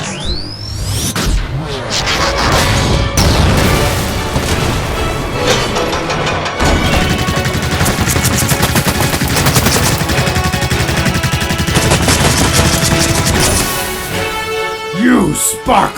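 Loud, sustained robot gunfire in a Transformers fan film battle, continuous rapid shots with whooshes and crashes layered under shouting voices throughout.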